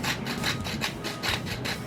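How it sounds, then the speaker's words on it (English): Salt being ground in a hand grinder, a close series of rhythmic gritty crunching twists repeating about every quarter second. "So I gotta grind my salt because it's in a grinder and my hands are slippery."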